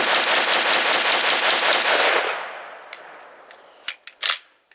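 CETME rifle firing Tula steel-case ammunition, heard as a loud, rapid, continuous burst of automatic fire lasting about two seconds, followed by fading echo and a few sharp metallic clicks and knocks.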